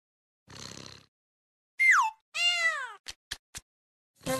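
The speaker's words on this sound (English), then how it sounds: "Kitten." Kitten meowing close up, a couple of clear rising-falling meows among a few short clicks and a brief noisy burst, otherwise quiet.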